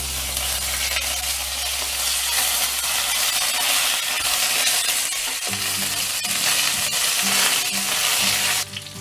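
Curry leaves hitting hot oil in a pan for coconut-milk chicken, a loud continuous sizzle and crackle with stirring clinks partway through, close and alone.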